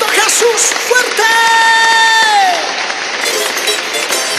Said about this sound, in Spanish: aplauso para Cristo Jesús